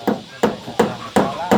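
Four evenly spaced, sharp pounding strikes land close by in steady rhythm, each a hard knock with a short ringing decay, and no talking is heard between them.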